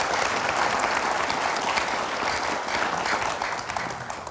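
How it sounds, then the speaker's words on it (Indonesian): Audience applause in a TV talk show studio, dense steady clapping that fills the room, loud and continuous before fading slightly at the end. "kita berikan tepuk tangan dulu"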